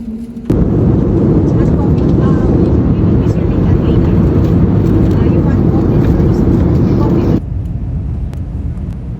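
An airliner landing at Fukuoka Airport in Japan, heard from inside the cabin as a loud, steady roar of engine and rolling noise that drops suddenly near the end to a quieter hum.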